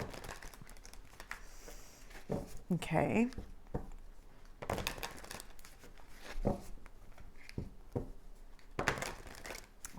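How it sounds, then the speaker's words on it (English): Light Seers Tarot cards shuffle in quick riffling bursts, papery and close, with pauses between rounds and a brief spoken word. "give the Light Seers Tarot a quick shuffle"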